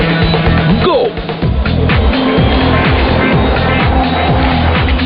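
A superbike racing a jet plane travelling at about 273 km/h, a loud high-speed engine roar with rapidly rising gear-shift whines and a brief dip, close and dominant throughout.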